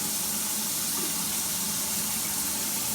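Waterfall shower head running into a bathtub, a loud, dense, continuous hiss of falling water with steady spray and no pauses, close and alone.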